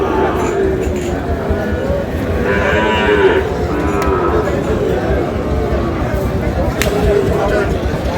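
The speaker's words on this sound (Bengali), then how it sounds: "একেবারে হাই বিগ সাইজের একটি ষাঁড়" A large Sahiwal bull lows at a cattle market in Dinajpur, one drawn-out moo rising over steady nearby talking and the general murmur of the crowd.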